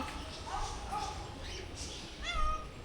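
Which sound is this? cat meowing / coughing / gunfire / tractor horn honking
cat meowing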